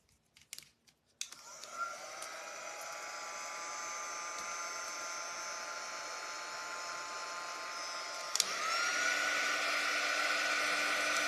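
A hair dryer running steadily to dry a chalked transfer, starting with a few handling clicks, then a continuous close whooshing hum that shifts pitch briefly partway through before carrying on.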